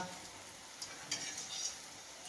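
Dal vada batter frying in hot oil over a low gas flame, a steady soft sizzle with a few light scrapes of stirring, fairly quiet and with no talk.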